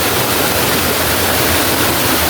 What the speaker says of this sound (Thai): มาเที่ยวที่ น้ำตกจิมไง หรือน้ำตกสับสาแก้วนะครับ